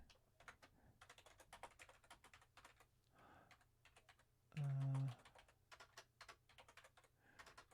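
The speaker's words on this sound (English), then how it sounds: "See how good my typing is without looking at the keyboard." Rapid, quiet clicking of keys on a computer keyboard, a fast uneven patter of taps running throughout with a short burst of louder low noise near the middle.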